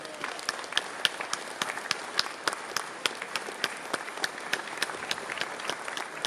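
An audience at an accordion festival in Ísafjörður claps steadily, a dense run of crisp individual claps heard at a moderate distance with no talk.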